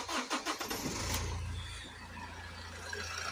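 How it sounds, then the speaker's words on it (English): A diesel vehicle with glow plugs cranks with a few rhythmic turns, catches, and settles into a low, steady idle, heard close with no talking. "So let's start the vehicle up."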